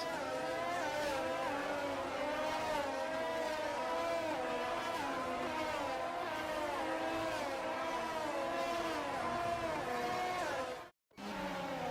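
Formation lap of Formula 1 cars in the F1 22 video game before a sprint race, with a steady, continuous layered engine whine and shifting revs throughout, briefly cutting out near the end.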